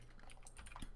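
Quiet typing on a computer keyboard picked up by a player's open microphone during an online Tabletop Simulator game session, a few soft, scattered key taps at low level.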